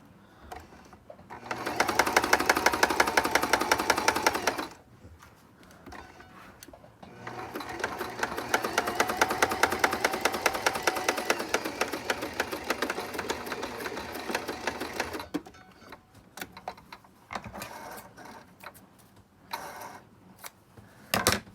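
A sewing machine straight-stitches a fabric face mask in two long runs of rapid, rhythmic mechanical whirring and ticking, separated by a pause, followed by scattered handling clicks.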